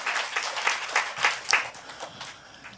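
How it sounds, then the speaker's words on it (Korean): A church congregation claps in thanks during a sermon at a prayer gathering, a sparse, uneven patter of hand claps of moderate loudness with no voices over it. "우리 하나님께 감사의 박수 올려드리는 저와 여러분 되시면 좋겠습니다."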